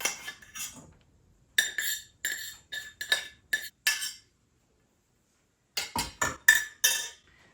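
Rice being scraped and added into a mixing bowl for bean and rice burgers, heard as a series of short, close clinking scrapes of a utensil against the bowl in bursts, with a pause before a final cluster of scrapes.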